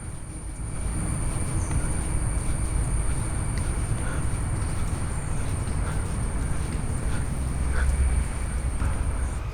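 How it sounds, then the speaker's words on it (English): A kiddie train runs through Kadri Park in Mangaluru on a morning walk, a steady, moderately distant rolling rumble with faint clatter over outdoor ambience. "So that's the train that you have out there."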